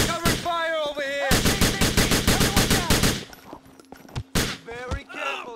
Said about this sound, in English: Covering fire over here.